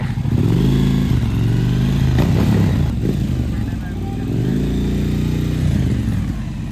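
A large Suzuki V-Strom 1000 motorcycle engine idles and rumbles loudly nearby, pitch rising and falling as it revs gently, steady throughout.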